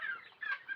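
Desi village chickens crowd around a feeder to eat, giving off soft, close clucks in short, uneven bursts at low volume, with no talking.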